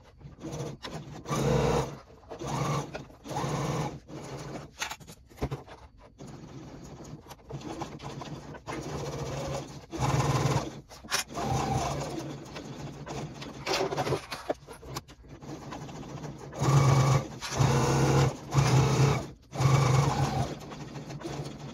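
Sewing machine stitching around a Harlequin pouch seam, a close, steady whirring hum in repeated runs of a second or more separated by short pauses, with no talking.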